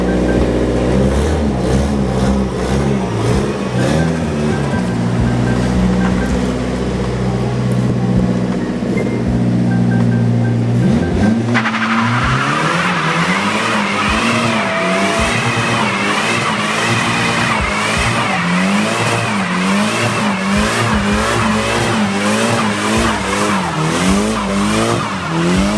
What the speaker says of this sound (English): Boy is gonna do a burnout in the S14.